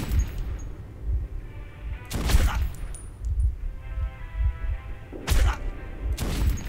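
Three heavy gunshot bursts of pre-war ammunition in the Metro 2033 video game, each loud and sharp with a short tail, spaced a few seconds apart over a low rumbling background.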